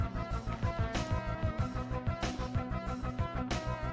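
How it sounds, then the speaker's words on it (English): Rapid, repeating electronic beeps of a metal detector pulse in a steady rhythm, with tonal chirps layered over a buzzing low drone, fairly close and continuous. "you got your metal detector sound."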